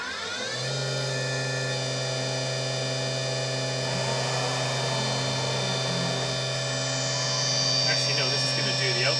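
A Tree Journeyman 325 CNC milling machine running a half-inch end mill, giving a steady loud motor whine and hum with faint higher cutting chatter late on, continuous throughout while a voice talks over it.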